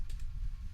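Brief burst of typing on a computer keyboard while a Linux command is entered, a few close key clicks over a low background hum.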